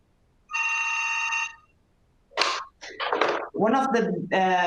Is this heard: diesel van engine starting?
no